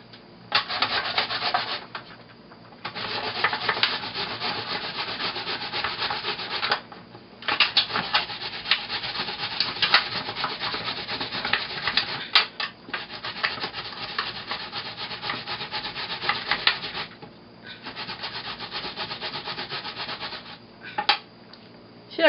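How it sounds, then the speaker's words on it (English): Raw onions rubbed against a hand grater for a Guyanese-style soup, giving steady rasping scrapes in long continuous runs with brief pauses, close and fairly loud, no talking. "I'm gonna take a grater and grate my onions."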